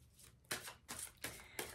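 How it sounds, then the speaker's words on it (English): Tarot cards are shuffled close by in four quick riffling bursts, each a crisp flutter, with nobody speaking. "let's just shuffle cards"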